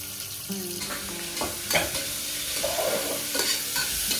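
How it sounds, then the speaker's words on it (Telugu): Chopped onion sizzling in hot oil with curry leaves and green chillies for a mutton curry, stirred with a spoon scraping the pan in a few strokes; close and clear, no talking. "ఇప్పుడు ఆనియన్ అంతా కలిసేలా కొంచెం కలుపుతున్నా"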